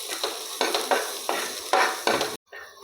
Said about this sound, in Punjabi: ਪਿਆਜ਼ ਨੂੰ ਵੀ ਆਪਾਂ ਹੁਣ ਜ਼ਿਆਦਾ ਨਹੀਂ ਭੁੰਨਣਾ ਬਸ ਹਲਕਾ ਜਿਹਾ ਭੁੰਨਣਾ